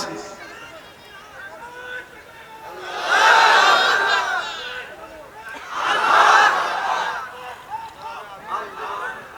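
A crowd at a gathering chants political slogans in two loud swells of massed voices. Quieter murmuring and individual voices fill the gaps between the bursts.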